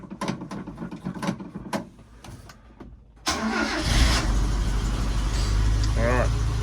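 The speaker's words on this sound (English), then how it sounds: "let's fire it up just to prove to the world that it still works" A 1978-81 Mazda Bongo van is cranked and fires up, with clicks and rattles before the engine catches and settles into a loud, steady idle, with brief voices around it.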